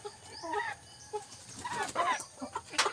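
Rhode Island Red chickens cluck softly nearby in short, scattered bursts, with a few sharper higher calls near the end, all fairly faint.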